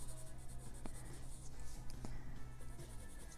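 Watercolor pencil coloring on paper, a soft, continuous scratchy rubbing of lead strokes, faint and close, with small steady back-and-forth shading motions and no talking.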